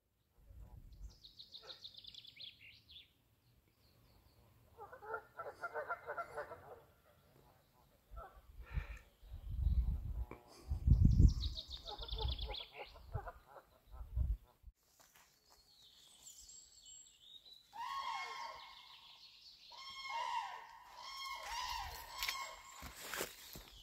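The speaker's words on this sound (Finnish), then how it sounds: "kun pysähtyy vähäksi aikaa kuuntelemaan, niin todella monenlaisia lintuja" Assorted wild bird calls and chirps, including chaffinches and cranes, scattered and fairly distant, mixed with some low rustling and outdoor noise in a lakeside bird sanctuary at Koskeljärvi, Finland.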